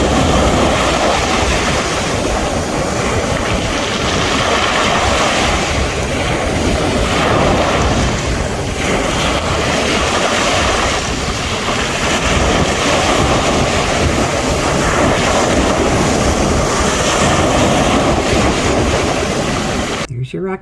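Ocean surf on a Kenai Peninsula shore rolls in a continuous loud wash, heavily buffeted by wind noise on the microphone, with no clear breaks between waves.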